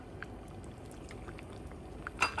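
Mahi mahi fish curry with coconut milk simmers in a pan, giving a soft, steady bubbling throughout with a slightly louder burst of bubbles near the end; no talking.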